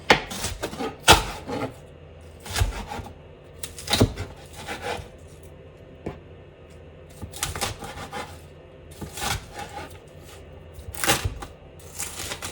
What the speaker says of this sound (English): you just keep chopping till you've got it how you like it